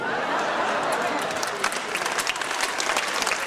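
Steady applause from a comedy show audience fills the room, a dense, continuous clapping at moderate volume with no speech over it.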